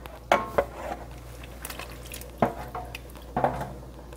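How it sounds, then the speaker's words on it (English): Roasted vegetables tipped into a pot of heated vegetable broth, a few soft splashy plops and clinks of a utensil against the pot, spaced out and fairly quiet. "I'm going to add all of my roasted vegetables"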